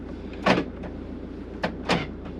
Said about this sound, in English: This locks the doors